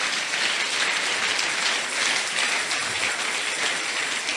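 Church congregation clapping for Jesus, a dense, sustained wash of many hands applauding together at an even, steady level with no voices.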